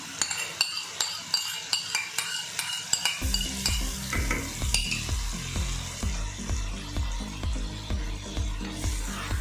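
Biryani masala with yogurt and tomatoes fries and is stirred in a pot. A rhythmic run of sharp spoon-against-pot clinks sits over a steady sizzle, with repeated scraping strokes once the frying noise rises.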